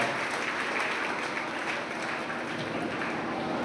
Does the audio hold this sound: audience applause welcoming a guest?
yes